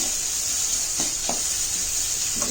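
Carrots and beans sauté in a little oil in a pan, giving a soft steady sizzle with a few brief stirring scrapes, with no voices.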